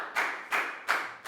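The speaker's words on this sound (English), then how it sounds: "Big round of applause for Down," A school class of Year 4 pupils clapping, heard as three distinct bursts of claps in an even rhythm, fairly close and without talk.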